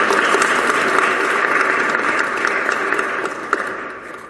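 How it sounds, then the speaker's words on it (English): Steady applause from a crowd at a keynote address, a dense wash of clapping that holds level and then slowly tapers off. "a very big round of applause"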